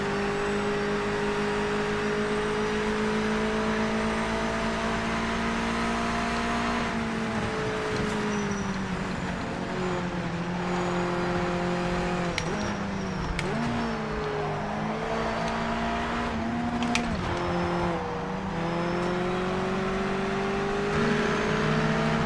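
A race car engine held at high revs in second gear on a circuit in a racing video game, steady and loud throughout, with pitch dips and climbs through corners and an ongoing whine.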